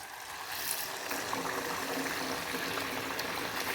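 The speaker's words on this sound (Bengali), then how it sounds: "দেখুন তেল গরম হয়ে গেছে, এরপর আমি একটা একটা করে লুচিগুলো ভেজে নেব" Luchi frying one at a time in hot mustard oil in a kadai, giving a loud, continuous, dense bubbling sizzle heard close up and unbroken, without speech.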